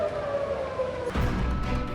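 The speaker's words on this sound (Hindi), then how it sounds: "यहाँ पे सायरन हर तरफ से बज रही है" Air raid sirens wail across an Israeli city, a steady tone holding for about a second before a louder, broader burst of siren and noise takes over, loud and continuous.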